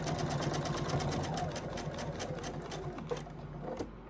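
Sewing machine stitches seams in a rapid, even mechanical whir close by, slowing and pausing briefly near the end, with no one talking.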